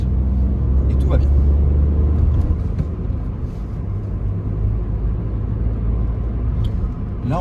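A Nissan Micra's engine pulls steadily uphill in second gear, a loud low drone that rises slightly, with someone talking in French over it throughout.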